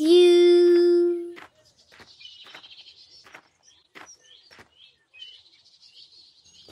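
Small birds chirp in short, scattered tweets after a held sung note fades, the calls light and moderately distant against a quiet background.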